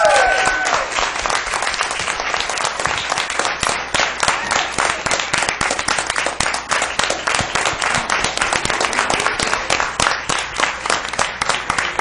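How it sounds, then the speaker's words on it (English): A round of applause fills a city council meeting room, dense steady clapping from many people that carries on for the whole stretch, loud and close. "A round of applause."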